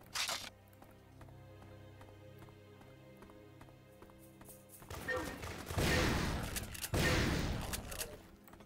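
Shotgun blasts in Turok 3, two heavy booming shots in the latter half following a stretch of rapid clattering steps and game noise, loud and close.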